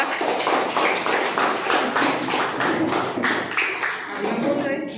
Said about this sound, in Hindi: गुलजार के लिए जोरदार तालियां